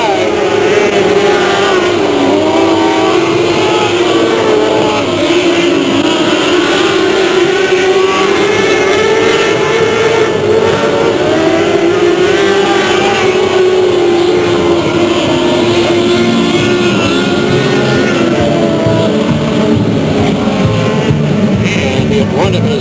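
Race cars at Delta Speedway in 1999 roar around the oval in a loud, continuous pack, engine pitch rising and falling as they race through the final lap, with an announcer's voice over the top.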